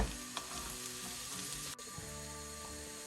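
Chicken liver fries in a pan for a pomegranate-molasses dish, giving a loud, dense, continuous sizzle with a brief dip partway through.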